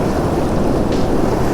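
Ocean waves break against rocks in the foreground, a dense, loud wash of surf roaring steadily without pause, with some wind buffeting the microphone.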